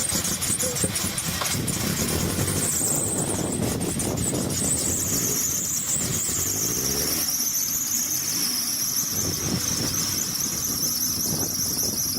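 A worn engine belt on a Saturn car squeals in a loud, continuous high-pitched whine over a rough-running engine that is misfiring, the pitch wavering slightly as the engine revs.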